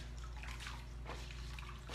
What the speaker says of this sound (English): see if I can squeeze a little more water out of there.